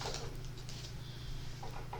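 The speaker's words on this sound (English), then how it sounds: "So, the usual shuffling." Soft, quick papery patter of tarot cards being shuffled, faint and close, over a low steady hum.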